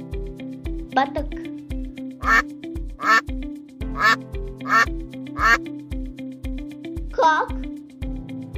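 A duck quacks repeatedly in loud, nasal calls, about eight spaced quacks in an uneven rhythm over a low background hum.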